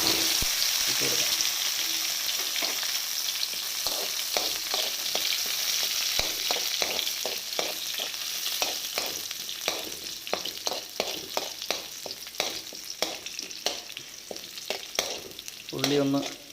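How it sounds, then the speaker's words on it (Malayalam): Mustard seeds, shallots and curry leaves frying in hot oil for Kerala sambar, a steady loud sizzle with crackling pops and stirring scrapes throughout, growing more spattery near the end. "കടുക് കൂട്ടിയ ഉടനെ നമുക്ക് ചുവന്നുള്ളി കറിവേപ്പില അതിനകത്ത് ഇട്ട് കൊടുക്കാം."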